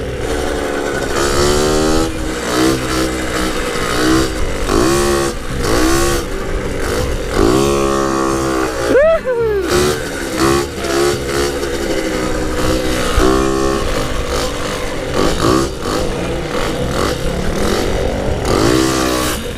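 A moped's small engine revs hard and repeatedly during a wheelie, pitch rising and falling in surges with a sharp high spike midway, loud and close throughout with no talking.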